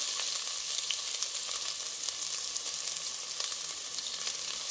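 Onion frying in a hot pan sizzles with a steady, bright crackling hiss, moderately loud and alone, with small pops scattered throughout.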